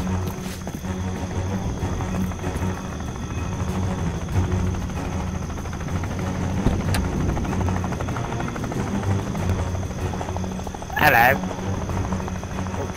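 A helicopter in the VR game War Dust, set in a 32-versus-32 battlefield, thrums steadily under continuous game noise and a player's voice, with a brief sharper burst near the end.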